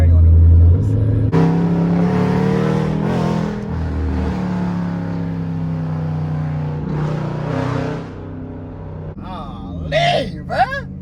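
An SRT Jeep fitted with catless mid pipes revs loudly up close, a deep raspy roar that swells and holds, then drops, followed by crackling pops as the throttle lets off, with voices talking over it.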